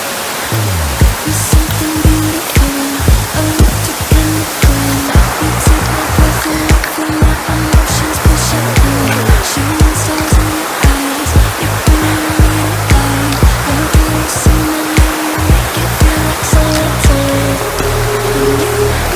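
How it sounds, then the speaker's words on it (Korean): A mountain valley stream in Chiak-san National Park pours steadily over rocks, a loud, continuous rushing wash of water close by, with no voices over it. "계곡물 소리가 너무 시원하다."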